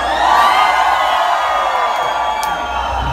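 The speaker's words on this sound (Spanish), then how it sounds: "Hoy necesito única y exclusivamente gritos los que quieran una más." Large live crowd at a sonidero dance night in a discotheque in Atlanta, Georgia, shouting and cheering for another song, a dense continuous roar of voices with whoops and whistles over music.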